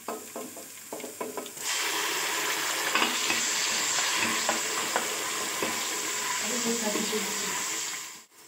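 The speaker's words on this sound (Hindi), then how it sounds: "अदरक लहसुन का पेस्ट और प्याज का पेस्ट डालने के बाद अब हम उसको कर रहे हैं फ्राई" Ginger garlic paste and onion paste frying in hot oil for beef trotters, with a steady broadband sizzle that starts after a few clicks and runs continuously, broken by scattered stirring scrapes and knocks, close and fairly loud.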